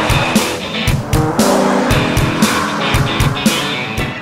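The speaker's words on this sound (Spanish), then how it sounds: "vamos a ver qué tal va en marcha esta Crafter camperizada" A Volkswagen Grand California, a camper van built on the Crafter, on the move: a steady engine and road drone with a rhythmic thumping pulse and bursts of wind-like noise, heard from inside at moderate loudness.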